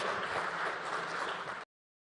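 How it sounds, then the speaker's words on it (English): Audience applause for Dr. Somnath and his team, a steady, fairly faint wash of clapping that cuts off abruptly. "let's give them a very warm round of applause for this"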